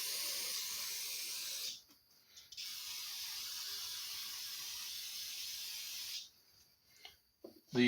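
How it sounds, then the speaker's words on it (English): Cleaner sprayed in long steady hissing blasts onto greasy exhaust mounting hardware from a Kohler KT17 engine, close and loud, with two sustained sprays separated by a short pause and brief spurts at the end. "I'm just going to spray the greasiness off of that mounting hardware there."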